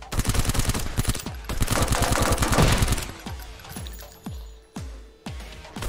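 A machine gun in the VR game Silicon Rising fires rapid, loud, close bursts that run continuously for a few seconds, then break into spaced single shots with short echoing tails.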